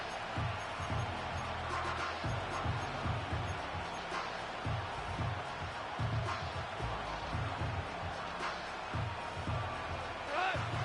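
Stadium crowd in an American football video game during a playoff run, a continuous roar of cheering with rhythmic low thumps like stomping or drumbeats pulsing beneath, steady and moderately loud throughout.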